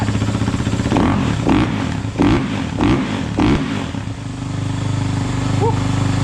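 A Kawasaki KX450F dirt bike engine gets cranked several times in uneven bursts before it fires, then settles into a loud, steady running idle close by.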